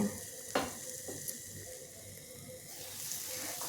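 Tomato and garlic with green chilli and nigella seeds cook in a pan for a pabda fish dish, a faint, steady simmering sizzle with a couple of light knocks, quiet and close, no speech.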